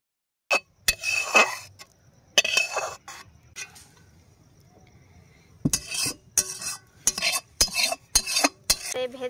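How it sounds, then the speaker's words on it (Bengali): A spoon clinks and scrapes against a metal pot while sabudana khichuri is stirred. The sharp knocks come in irregular bursts, close and fairly loud, with a quieter stretch in the middle and a soft sizzle beneath. "এবার এইভাবে নাড়াচাড়া করে এটাকে রান্না করে নিতে হবে"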